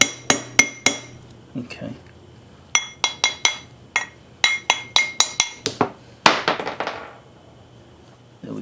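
Part of a hydraulic floor jack being hammered down during a rebuild, a run of sharp metallic strikes in quick groups with ringing clinks, loud and close, and a brief spoken word.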